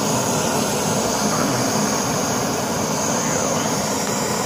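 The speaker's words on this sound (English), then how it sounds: "So you see the pocket rocket here. It's a lot noisier" MSR Pocket Rocket camping stove burning at full flame, a steady loud roaring hiss with no breaks, heard close up and alone.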